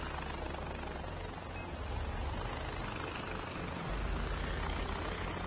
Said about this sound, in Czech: nad ním letí malá helikoptérka